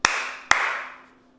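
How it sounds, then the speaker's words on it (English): Two sharp hand claps about half a second apart switch The Clapper, a 1980s sound-activated home automation device controlling a lamp, each clap ringing with a short room reverb tail and a faint steady hum underneath. "plug it in, and clap twice"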